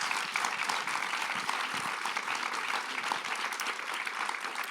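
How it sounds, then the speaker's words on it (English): An audience applauds a panel at a deep-tech venture capital talk, with dense, steady clapping from a full room that holds even throughout. "if I can have from all of you a massive round of applause for this"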